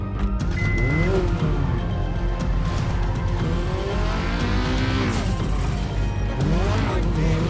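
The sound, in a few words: car driving in video game GTA 5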